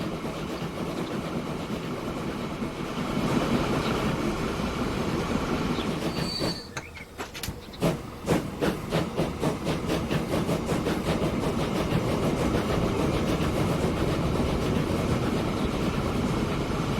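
Train rolling along a line in the Transport Fever 2 game, a steady rumbling roar with a burst of rhythmic wheel clicks over rail joints and a brief squeal, loud and continuous with no talk.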